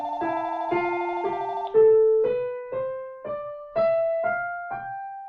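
Scale played note by note in 3/4 time, every third note accented as a clear downbeat, the tones steady and evenly spaced, moderately loud, with no talking.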